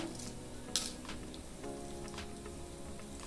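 Two dried red chillies and tempering spices sizzle in hot oil for a brinjal chutney, a faint, steady crackle with scattered small pops and one sharper pop near the start.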